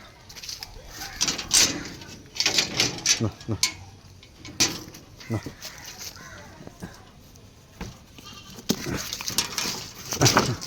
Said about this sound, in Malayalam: നല്ല തീറ്റയും കൂടിയുള്ള നല്ല ആടാണ്.